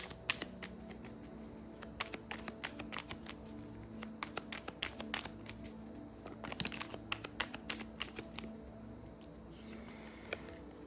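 Tarot cards being drawn and shuffled close by, with quiet repeated papery flicks and snaps in uneven bursts over a faint room hum.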